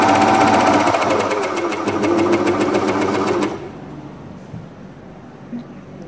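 A Willpex WP550 household coverstitch machine threaded with three needles runs a test seam on fabric, a loud fast mechanical whir with rapid stitch clatter for about three and a half seconds before stopping, leaving faint handling noises.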